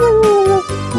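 A dog gives a single short, loud, close howl with a falling, drawn-out tone, tailing off into a brief whimper.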